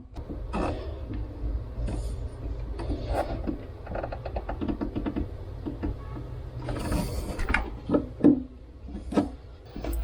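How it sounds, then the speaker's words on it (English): A fuel hose clamp is pressed and crimped onto an adapter with a crimping tool, producing scattered mechanical clicks, creaks and ratchet-like snaps at close range, a few sharper pops near the end, with no talk. "I'm going to position it right into the adapter and press it in"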